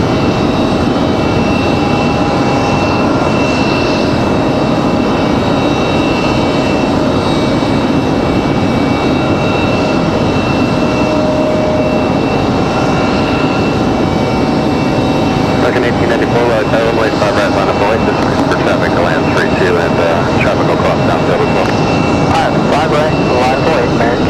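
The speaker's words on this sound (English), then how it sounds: "NetJet's our next arrival. Cessna Citation Latitude." A NetJets Cessna Citation Latitude jet arriving at Raleigh-Durham airport: a steady, broad engine roar that holds for the whole stretch, with a rising whine building toward the end.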